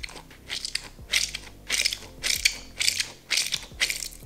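Someone squeezes a flamingo-shaped anti-stress ball filled with orbeez, giving rhythmic squishy, crackling crunches in regular pulses about every half second, close-up, with no talking.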